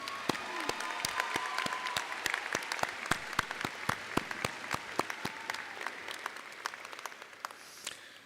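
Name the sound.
applause for the faculty at a commencement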